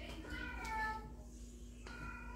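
A cat meows twice, thin and rising, fairly close, over a low steady hum.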